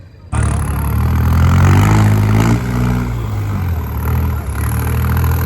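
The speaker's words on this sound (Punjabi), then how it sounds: "ਭਾਜੀ ਵਾਲਾ ਚੱਲਣ ਲੱਗਾ ਟਰੈਕਟਰ" A tractor engine roars loud and close during a trolley-pulling contest at a village fair in Punjab, surging to a heavy rev before settling into a steady, throbbing rumble with some mechanical clatter.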